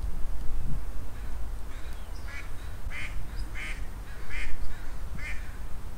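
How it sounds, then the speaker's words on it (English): A duck perched on a fence quacks in a series of six or seven short, evenly spaced calls, clear but somewhat distant over steady outdoor wind and background noise. "Look, it's a fence duck."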